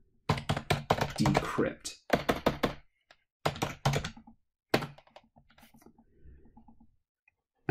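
A computer keyboard clatters in close, rapid bursts of typing as a command is entered in a terminal, followed by sparse single key taps and a final press; a voice speaks briefly.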